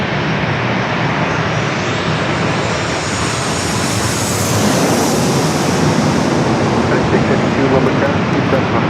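Jet airliner departing San Diego airport on a flight to Seattle, its engines a loud steady roar that swells gradually and stays close throughout.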